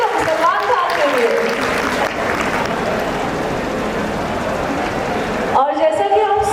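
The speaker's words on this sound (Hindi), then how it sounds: "एक बार जोरदार तालियां होनी चाहिए हमारे हैंडसम सलमान खान के लिए" Audience applause for Salman Khan at the TARANG-2K25 institute event, a loud crowd clapping for several seconds between stretches of amplified speech at the start and end.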